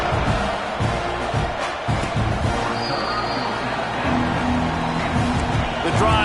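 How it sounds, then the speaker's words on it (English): A stadium crowd in the College Football 26 video game roars as a steady, dense bed of noise, fairly loud and continuous, with talk layered over it. "You think this crowd's going to get loud when their defense comes on the field?"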